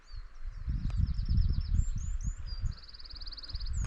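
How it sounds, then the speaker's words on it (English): Small birds tweet and chirp in quick, high trills by Kershope Burn on a quiet, sunny day, moderately distant over a soft rustling background. "very quiet apart from the birds tweeting away"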